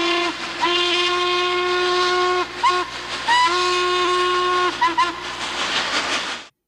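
Norfolk and Western 1218 steam locomotive sounds its steam whistle in two long, loud chord blasts and a short toot, over the steady rumble of the running engine.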